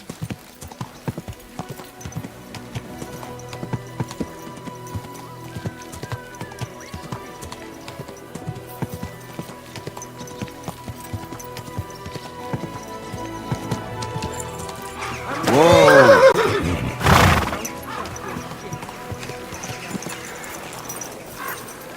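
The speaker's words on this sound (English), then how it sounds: "Easy, good horse." In a video game, a horse's hooves clip-clop steadily in the background, then a loud whinny rises briefly near the end before fading.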